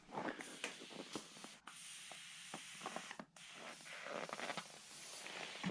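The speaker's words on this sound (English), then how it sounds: "We're going to try to put some silicone spray here so that it doesn't stick." Close, hissing bursts of silicone spray from an aerosol can come in short and longer blasts with brief pauses, against faint rustling and handling noises, applied to de-iced snowmobile parts.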